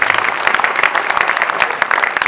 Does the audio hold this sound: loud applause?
yes